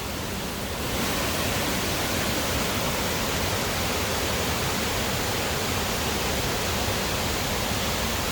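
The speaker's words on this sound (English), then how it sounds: "So right now the water, it's almost like a waterfall because this is completely filled." Canal water rushing over a filled channel like a waterfall, a dense, constant hiss and roar that swells in just after the start and holds steady, close and loud with no talking.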